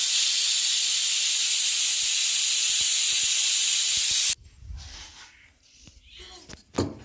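A pressure cooker cooking dal lets out a loud, continuous close-up hiss of steam with faint clicks, which cuts off abruptly after about four seconds, leaving quieter kitchen clatter.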